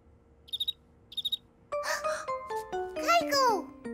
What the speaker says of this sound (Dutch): Krekel.